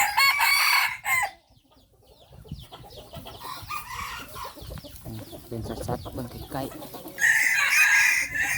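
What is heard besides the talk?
chickens clucking and crowing, mixed-breed chickens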